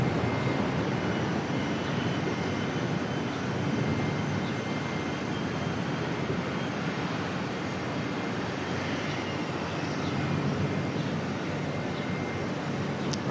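A jet airliner climbing steeply out after takeoff at Auckland Airport, a loud continuous roar with a steady rumbling drone that holds without letup throughout.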